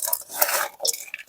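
A spoon stirring a chicken and onion mixture in a clay pot, with a few soft scraping and clinking strokes, close and quiet.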